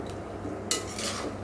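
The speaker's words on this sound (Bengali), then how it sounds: "এবার ভালো করে নেড়ে নেব" A spoon stirs dalia (broken wheat) with coriander powder and salt in a pot, a short burst of metallic scraping and clinking close by after a quiet moment.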